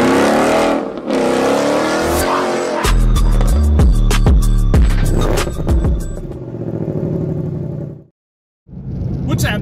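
A 2018 Mustang GT engine revs hard and repeatedly in a close-up rev battle, loud throttle blips rising and falling with deep throbbing exhaust, then a brief drop to silence before the engine roars again.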